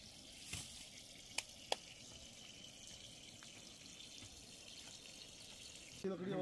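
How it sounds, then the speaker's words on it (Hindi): Water runs from a pipe into a small rural swimming-pool tank in Uttarakhand, making a faint, steady rushing hiss with a couple of sharp clicks and a louder rustle at the end. "सूरज ने वहाँ से पाइप में पानी लगा दिया है"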